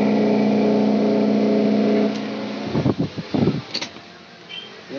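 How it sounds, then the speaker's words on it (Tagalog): A washing machine's dryer motor spins with a steady, droning hum for about two seconds, then cuts out and gives way to a few uneven knocks and clunks, with no one talking. "iikot lang yung motor niya"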